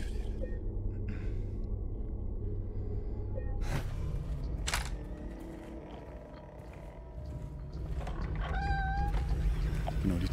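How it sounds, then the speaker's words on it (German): A door in the Silent Hill 2 video game creaks open with a drawn-out, cat-like meowing squeal, heard a couple of times over a low droning ambient background. "Genau, die Tür klingt wieder wie eine Katze."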